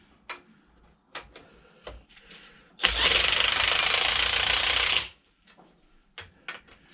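Pneumatic impact wrench on an extension hammering at the strut top nuts of a Citroen C4 Grand Picasso during a front strut top mount replacement; one loud continuous burst of about two seconds, with quieter clicks and handling noises before and after.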